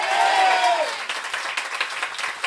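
A church congregation applauds warmly during a Sunday morning service, dense clapping filling the room, with a sustained tone from the start fading out after the first second.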